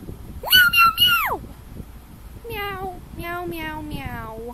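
Several voices imitate cat meows in turn, a high drawn-out mew followed by a run of rising and falling meows, loud and close, with no other speech.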